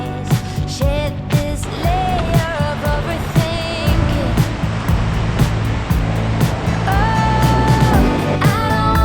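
Water rushes down into a bay on a bright day, a steady loud roar of churning water that runs unbroken beneath music.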